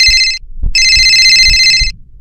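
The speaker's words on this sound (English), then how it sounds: "Suddenly, the landline phone rings." A landline telephone rings loudly and up close: two electronic trill bursts separated by a short gap, with a dull thudding pulse underneath them.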